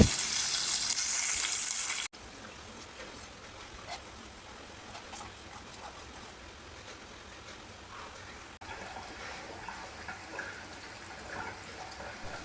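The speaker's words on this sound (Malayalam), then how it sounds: "ശേഷം നമ്മൾ മിക്സിയിൽ അടിച്ച് മാറ്റി വെച്ച മസാല ഇതിലേക്ക് ചേർക്കാം" Ground masala paste for sardine curry hits a hot pan with a loud, hissing sizzle for a couple of seconds, then settles into a quieter, steady crackle that continues to the end.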